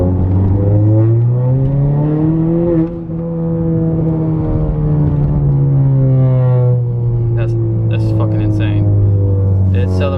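A 2018 Honda Accord fitted with a Civic Si manual transmission, upgraded clutch and lightweight flywheel pulls in second gear, its loud, close engine drone climbing in pitch, then holding a strong, steady note, with a few sharp clicks near the end.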